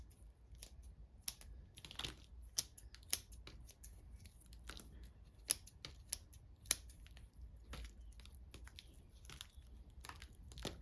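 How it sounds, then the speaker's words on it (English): Scissors snip roots at the base of a bonsai seedling, a run of sharp, irregular clicks and crisp cuts up close against quiet, with faint rustling between snips. "I'm going to just cut a few of these roots from the bottom that we definitely don't need."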